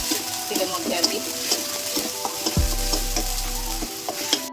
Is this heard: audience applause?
no